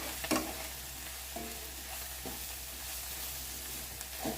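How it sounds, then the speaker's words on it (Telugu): Onions frying with coriander in a pan for homemade egg fried rice: a soft steady sizzle, broken by occasional scraping clinks of stirring, fairly quiet and close. "అది కూడా ఎర్రగడ్డలతో పాటు ఫ్రై అవుతుంది కదా."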